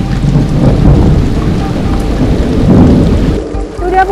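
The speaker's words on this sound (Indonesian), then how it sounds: "Lagi-lagi, hujan turun dengan derasnya." Heavy rain pours down during a thunderstorm by a river at the foot of Mount Binaiya in Indonesia, a loud, close, constant roar of rain with a deep, rolling thunder rumble.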